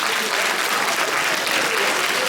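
Parents and guests at a middle school awards ceremony clap steadily, a dense, even wash of applause filling the room with no pauses.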